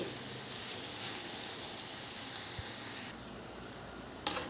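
Chopped onions frying on a medium flame for a brinjal curry, a steady close sizzle throughout with a few faint clicks and a sharper knock near the end.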